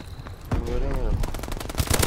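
Rapid automatic gunfire bursts in Call of Duty Advanced Warfare multiplayer, crackling close and loud over a player's talk and game sounds.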